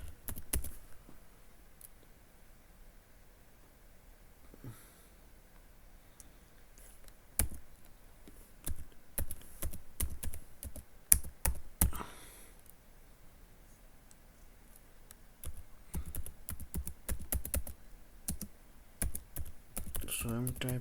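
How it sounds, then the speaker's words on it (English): Bursts of clicky keystrokes on a computer keyboard as a command is typed, quiet and close, separated by pauses with faint background noise. "So I'm typing the command."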